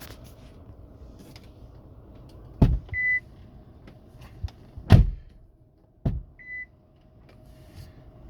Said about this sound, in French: Un bip léger.